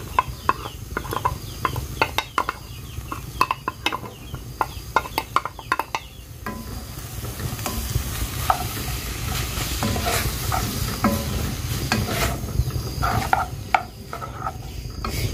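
Chopped onion sizzles steadily in a hot pan for a home-cooked pasta dinner, with scattered stirring clicks and scrapes early on, then a continuous close frying hiss that builds and holds.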